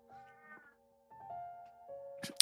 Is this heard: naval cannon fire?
no